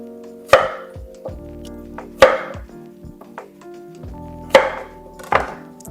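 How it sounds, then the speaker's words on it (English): A knife chops through a large radish on a cutting board in four sharp, evenly spaced cuts, each a crisp knock against the board with quieter handling sounds between. "This one's kind of big, so I'm going to cut it in quarters rather than in halves."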